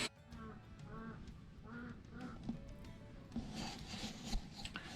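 Valve lapping on a 1500 MG Midget cylinder head during a rebuild, a steady rasping rub of the valve turned back and forth against its seat, close and continuous with rhythmic grinding strokes and no talk.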